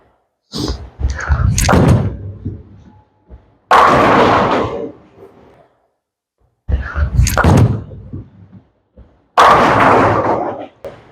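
A Fireball Purple/Gold bowling ball crashes into the pins on a house-shot lane, each strike a loud, sharp clatter that rings out and fades; two such impacts come several seconds apart, with indistinct activity between them.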